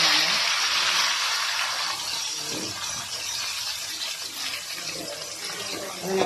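Sliced onions hit hot oil already crackling with cinnamon, fennel seeds and cloves for a chana masala, giving a loud, steady sizzling hiss that eases slightly as it goes on.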